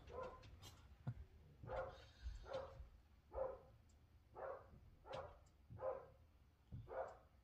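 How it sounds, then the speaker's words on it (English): Several dogs barking at someone passing a house, repeated sharp barks in an irregular rhythm of about eight bursts, moderately close and fairly loud, with no talk over them. "Somebody goes by the house, so they think they have to bark at somebody."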